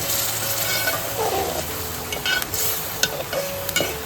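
A spoon stirs a hand-ground masala paste for Konkan-style chicken curry in a pan, giving soft, quiet scraping and a light sizzle with intermittent clinks, close up and with no talk.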